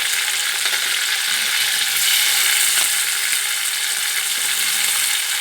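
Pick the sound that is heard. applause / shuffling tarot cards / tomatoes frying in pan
tomatoes frying in pan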